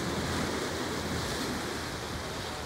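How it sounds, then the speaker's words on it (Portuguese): Rough, wind-driven sea waves churning around a fishing deck in Santos, a dense, continuous roar of surf and gusting wind noise, steady and fairly loud, with no voices. "o mar hoje aqui, vocês estão vendo, por causa do vento, da chuva, mar agitado"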